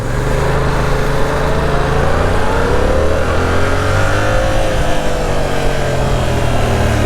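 A 2022 Yamaha R7 motorcycle engine revs steadily and loudly throughout, its pitch rising and falling in smooth sweeps with a constant droning tone underneath and no talking.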